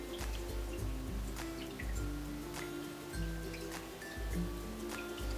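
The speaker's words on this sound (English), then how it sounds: "I start getting just some ice water because it's real refreshing in the morning." Ice water trickles and drips into a cup, making soft, close liquid splashes and tinkling sounds in repeated small bursts at low volume.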